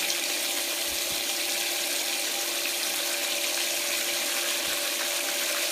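Steady, continuous rush of water running through a gold clean-up sluice, close and constant throughout with a faint mechanical hum, no talk.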